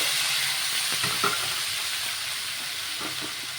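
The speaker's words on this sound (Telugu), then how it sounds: "నెయ్యి వేసుకొని కొద్దిసేపు బాగా మగ్గించుకోవాలి" Soft, steady sizzle of dragon fruit cooking in ghee in a pan, with a few light stirring scrapes and no talking.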